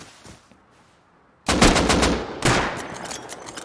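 Rapid bursts of explosive-ammo gunfire in the Rust survival game during a raid, a quiet lead-in then two loud, dense volleys of overlapping shots from about the middle onward, close and unbroken by talk.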